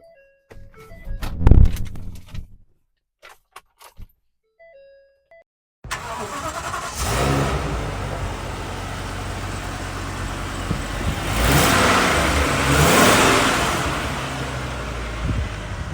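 A few chimes and clicks, then a 2015 Ford F-550 crane service truck's engine cranks and catches, idling loudly up close before revving up twice and settling back.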